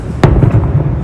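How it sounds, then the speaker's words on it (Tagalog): Fireworks at the Calgary Stampede: a sharp, loud burst followed by a rolling series of booms and crackles in quick succession, close and dense throughout. "So yan, fireworks na."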